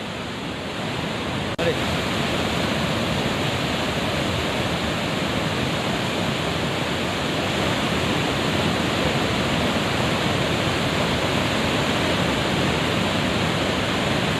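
Floodwater from heavy rain surges through twenty open dam gates into the Kaveri river at about fifty thousand cusecs. The roar is dense, continuous and loud, with no pauses and no talking over it.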